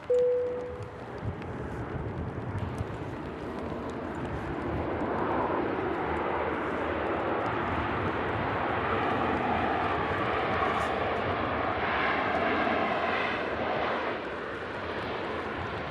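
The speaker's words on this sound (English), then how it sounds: "Bit of spray there, but mostly idle reverse being used." A Jet2 Airbus airliner lands with idle reverse thrust and a little spray, its broad engine roar rising and holding steady throughout, loud and fairly close.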